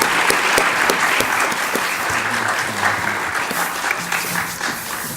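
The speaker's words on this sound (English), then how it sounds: "So once again, please give up a round of applause for Kanti." A fundraiser concert audience applauds in a loud, continuous burst of dense clapping that holds steady and eases off slightly toward the end, with no voices over it.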